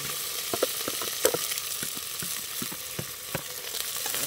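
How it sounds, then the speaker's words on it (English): Natural seasoning stir-fries in a hot pot for a Jamaican dish, giving a steady close sizzle broken by frequent sharp taps and scrapes of a spoon against the pot. "stir fry them, stir fry them."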